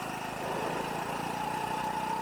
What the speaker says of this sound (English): just be quiet for a second, you just hear the revs die